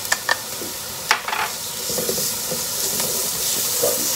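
Garlic hits a pan of cooked onions and sizzles loudly, a steady, close hiss of frying punctuated by clinks and scrapes of stirring, with no talking.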